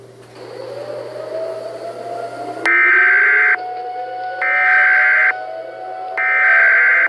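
Emergency Alert System tones: rising swept drone then three loud, steady electronic attention blasts, each about a second long, separated by short gaps, with a low constant hum underneath.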